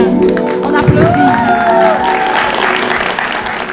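A French TV game show studio audience applauds, steady broadband clapping filling the clip at close range while a host's voice and some music tones ride over it.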